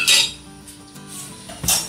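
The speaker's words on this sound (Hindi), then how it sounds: "अब इसको मिक्स करेंगे।" A spoon clinks and scrapes against a metal vessel while mango custard mixture with sugar is stirred, a few close sharp knocks with quieter rattles between.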